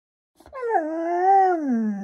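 A husky lets out a single drawn-out howl that rises and then slides downward, loud and close, heard alone indoors.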